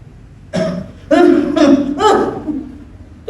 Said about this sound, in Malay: Teruk punya batuk kak.